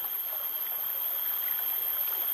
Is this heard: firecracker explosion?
no